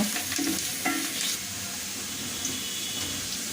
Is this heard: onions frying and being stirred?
yes